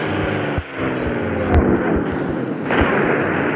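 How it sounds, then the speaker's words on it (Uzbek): A tank blows up in the Real Gangster Crime video game, a dense, roaring blast of noise with a couple of sharper bursts inside the sustained rumble, loud and continuous, with no voices. "Hozir tankga portlab ketadi."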